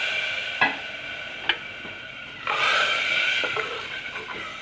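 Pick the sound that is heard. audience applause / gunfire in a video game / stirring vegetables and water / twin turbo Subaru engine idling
stirring vegetables and water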